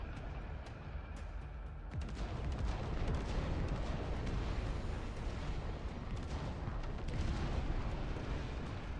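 Artillery booming in the real-time strategy game Dust Front, a continuous rumbling barrage of blasts and crackling impacts that grows denser after the first couple of seconds and keeps pounding steadily throughout.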